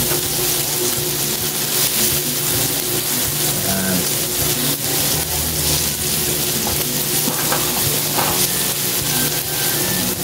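Tomatoes softening in a pan for an egg dish, giving a steady broadband sizzle throughout, fairly loud and close, with faint clatter and low kitchen hum underneath and no talking.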